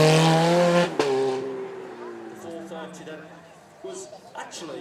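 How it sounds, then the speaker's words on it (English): Ferrari with a mid-mounted V8 howls past on a track during a supercar weekend, loud at first with a strong tonal engine note that fades as the car pulls away, a voice commenting over it. "You can hear, rather than the growl of the Mustang, this one's more of a howl from that mid-mounted V8."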